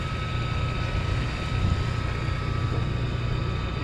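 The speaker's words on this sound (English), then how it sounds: "Looks like it might be a float plane." A float plane drones steadily overhead above Lake Superior, a continuous low engine hum mixed with wind noise, with no one talking.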